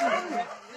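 A hunting dog barking during a wild boar hunt in West Sumatra forest, a short close yelp or bark with a whimpering tone, very brief.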